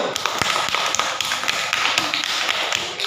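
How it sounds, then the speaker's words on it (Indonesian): A small group in a classroom session claps for group 1. Sharp, fairly close claps rise as a brief burst of scattered hand-claps with no talk over them. "Tepuk tangan untuk kelompok 1."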